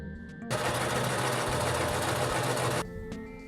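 Home sewing machine stitching a small lab coat for a plush toy, a steady close, loud whirring run of rapid needle strokes lasting a couple of seconds before stopping abruptly.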